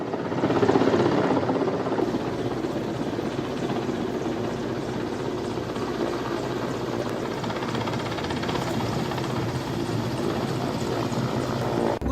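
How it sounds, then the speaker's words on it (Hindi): A rescue helicopter flies over the site of a ropeway accident, its rotor making a steady, loud, droning chop that continues throughout, with no talking. "आप देख सकते हैं हेलीकॉप्टर की मदद से भी बचाने की कोशिश की जा रही है।"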